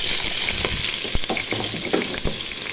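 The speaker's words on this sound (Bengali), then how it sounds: "তেল গরম হয়ে গেছে, এখন পেঁয়াজ কুচি ছেড়ে দিব।" Chopped onion fries in hot oil for beef bhuna, giving a loud, dense, continuous sizzle and crackle with a few soft clicks of stirring and no talk.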